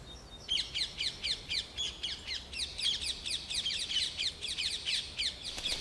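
A green bird with a red beak, at Père-Lachaise cemetery, calls in a rapid run of sharp, repeated high chirps, steady and fairly close, carrying on without pause against quiet outdoor background.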